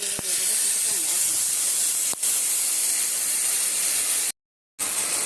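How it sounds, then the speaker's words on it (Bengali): Dry red chili, two bay leaves and five-spice seeds fry in hot oil for a vegetarian potato-cauliflower dish, producing a loud, steady sizzling hiss that cuts out briefly near the end. "ফোড়নটা একটু ভেজে নেব।"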